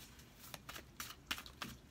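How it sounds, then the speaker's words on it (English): Tarot cards are shuffled by hand in quick soft riffles and flicks, several light papery bursts close up and fairly quiet, with no voices. "we're going to shuffle 3 more times for you"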